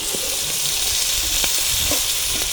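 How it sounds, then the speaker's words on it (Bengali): Loud, steady sizzling of crabs frying in hot oil, with a few faint clinks and pops over the continuous hiss. "কাঁকড়াগুলো ভাজা হয়ে গেছে"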